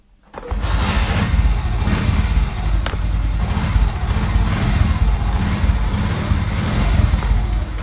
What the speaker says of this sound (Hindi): अब बाइक को स्टार्ट करता हूँ और लाइट को ऑन करके आपको दिखाता हूँ